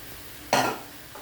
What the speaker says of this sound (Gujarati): હવે આપણે મમરા તળી નાખીશું.